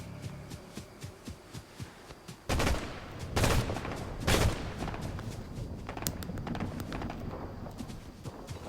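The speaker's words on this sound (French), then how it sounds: "j'entends des balles comme si on tirait dessus" Gunshots ring out in Fortnite, a quick burst of loud, sharp reports followed by scattered lighter pops and clicks, with no voices.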